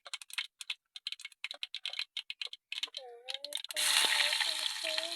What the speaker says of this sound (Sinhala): දැන් තෙලට දාමු. මොනවද තෙලට දාන්න යන්නේ? සුදු ලුණු රම්පේ කරපිංචා බීලුණු.